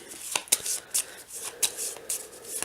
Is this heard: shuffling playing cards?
yes